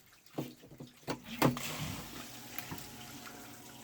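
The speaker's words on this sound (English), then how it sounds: "we got water flowing" A newly installed sump pump pushes water out of its pit, giving a low splashing, gushing flow with a few sharp knocks early on, then settling into a steady wash of running water.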